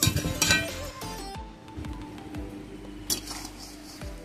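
Metal cookware clinking and clattering in a kitchen as a pan of prawn and banana-flower curry is covered with a lid: several sharp clinks and knocks, close and alone.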